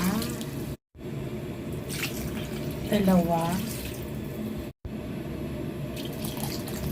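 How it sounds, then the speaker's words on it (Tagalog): Steady stream of water pouring and splashing into a cooking pot for chicken soup, continuous throughout, with a person talking over it partway through. "Now, maglagay na tayo ng tubig isa"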